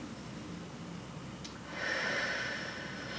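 A single slow, deep breath is drawn in and then released during a Pilates session, a soft airy rush that swells midway and lingers, quiet and near, with no talking.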